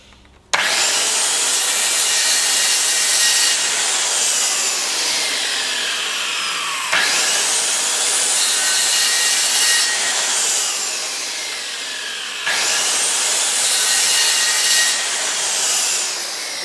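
Dewalt DWE576K circular saw cutting through 15mm plywood, three loud whining passes, each starting abruptly and slowly dropping in pitch as the blade bites, close and alone.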